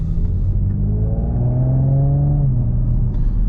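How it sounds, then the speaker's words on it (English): Audi S4 B9 with a 3.0T engine and stock exhaust, in dynamic mode on a test drive, pulls up through the revs in a rising whine-backed growl, then eases off into a steady rumble, loud and from inside the car. "the engine is making pretty good noise with the stock exhaust"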